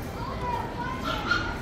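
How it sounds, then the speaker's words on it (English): Dogs in a pet shop inside a Bangkok shopping mall give a few short barks and yips under the busy crowd noise and people talking nearby. "And there's a lot of dogs in here."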